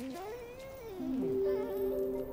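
A cat in the video game Stray gives a few drawn-out, tonal meows with rising and falling pitch, heard close and clear with no talking over them.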